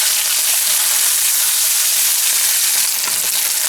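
Yellow morel mushrooms cooking in butter in a pan, giving a steady, loud, close hiss of sizzling liquid that holds even throughout with no voices.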